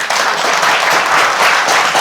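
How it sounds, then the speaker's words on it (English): Audience applause for panelists at the close of a panel event on financial security, a loud, dense, steady wash of many hands clapping that fills the whole moment without any speech. "Panelists, please give them a round of applause."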